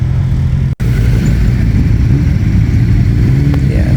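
Several motorcycles filtering into a crowded parking area in Finchingfield, Essex, a continuous loud, close rumble of idling and slowly moving engines with low throbbing tones, unbroken apart from a brief dropout near the start.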